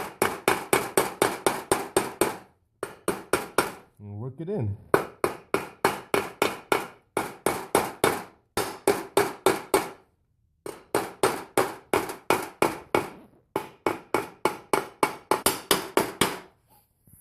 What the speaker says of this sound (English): You can put it over it and start hammering away.